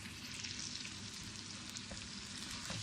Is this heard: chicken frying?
yes